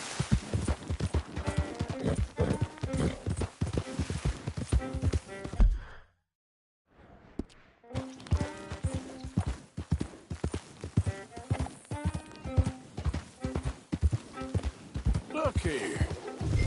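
Horse hooves clip-clop steadily in Red Dead Redemption 2, a continuous close walking rhythm that stops briefly for a couple of seconds near the middle and then resumes.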